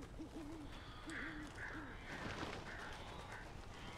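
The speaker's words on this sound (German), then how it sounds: "Hier sind Vögel." Birds call in the video game Alan Wake, a run of short, repeated hooting and cawing cries over a steady, noisy ambient backdrop.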